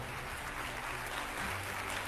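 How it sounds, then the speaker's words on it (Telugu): A church congregation claps loudly together, forming a dense, steady wash of applause that lasts the whole moment. No talking. "గట్టిగా చప్పట్లు కొట్టి యేసునామమున మహిమపరచును."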